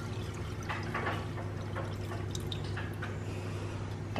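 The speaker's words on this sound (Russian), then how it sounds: "Наш лимонад настоялся. Мы сейчас будем его вот сюда переливать." Lemonade being poured from a container through a sieve into a glass jar in a home kitchen, a soft steady trickle and splash of liquid with faint drips, close by, with a low hum underneath and no talking.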